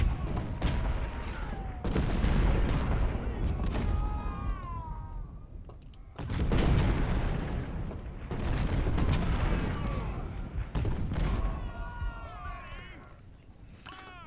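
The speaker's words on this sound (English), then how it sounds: "Let's get all these 20-pounders and 10-pounders firing on them." Artillery of 20-pounder and 10-pounder guns fires in Ultimate General: Civil War at the Battle of Cold Harbor. Several heavy booms land a few seconds apart, each trailing off in a rumble, and wavering whistling tones rise between them.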